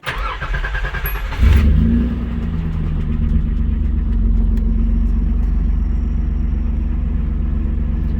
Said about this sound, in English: actually I don't even hear it doing its little putt-putt thing that it normally does at idle